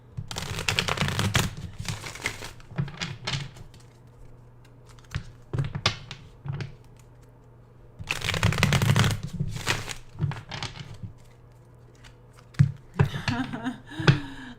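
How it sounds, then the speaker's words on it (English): Tarot cards are riffled and shuffled in several quick bursts with soft tapping between them, close up and fairly quiet. "let me just shuffle up the cards here for earth signs"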